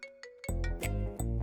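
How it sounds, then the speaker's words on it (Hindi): A mobile phone ringtone announcing an incoming call: a bright, melodic electronic tune of loud repeating notes heard close, playing in short rhythmic bursts. "देखो उस बदमाश का ही फोन आ रहा है।"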